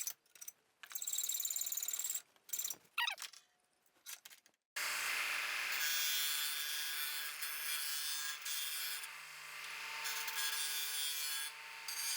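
A handsaw trims the ends of wooden tool box drawer handles: a few short rasping strokes, then a long continuous loud cutting rasp close by, with no talking.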